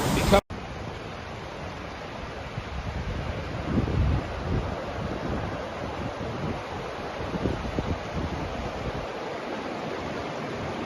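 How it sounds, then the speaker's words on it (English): Floodwater in Scotland rushes against a bridge as a broad, continuous roar, loud and steady, mixed with wind buffeting the microphone and a brief voice. "Water's just hitting the bridge now."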